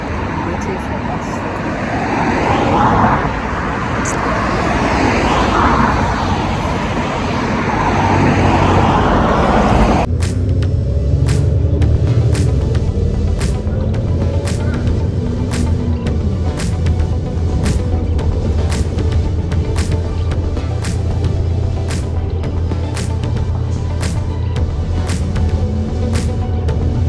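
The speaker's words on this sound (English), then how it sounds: "so I'm by the roadside and" Roadside traffic at a UK bus stop rumbles steadily throughout, with vehicles passing and a constant low engine drone; the first part is busier and louder, then a steadier hum follows with faint clicking, while a person talks over it.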